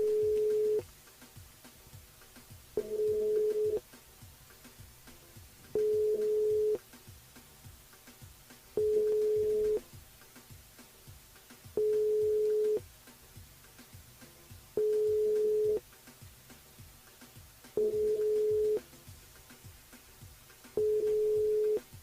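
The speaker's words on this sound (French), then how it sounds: "ça sonne, mais ça répond pas" A phone line rings out unanswered during a radio broadcast: eight steady electronic tones, each about a second long, repeat at even intervals of roughly three seconds over a faint hum, with no voice.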